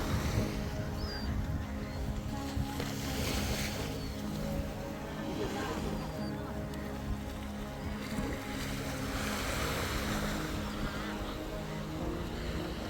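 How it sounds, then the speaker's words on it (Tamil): A fishing boat heading in to a beach where shore-seine nets are being hauled, its steady motor hum blended with continuous wash of waves and wind buffeting the microphone, loud and unbroken throughout. "அதில் இருந்து தான் தற்பொழுது போட் வந்து வந்துகிட்டு இருக்குது."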